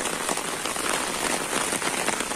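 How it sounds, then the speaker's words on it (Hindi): Heavy monsoon rain pours around a hostel building at a university campus in India, a dense, loud, continuous hiss of drops drumming on wet surfaces and standing water, close and unbroken, with no talking. "काफी तेज बारिश है।"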